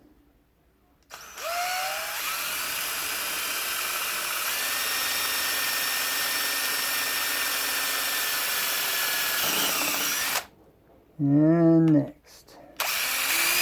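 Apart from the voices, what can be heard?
power drill drilling straight through clamped pen blank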